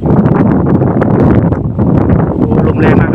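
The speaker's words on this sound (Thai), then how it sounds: "โอ้ลมแรงมากครับผม" Strong wind buffets the microphone outdoors near elephants at the edge of a forest, a loud continuous roar with gusty swells throughout.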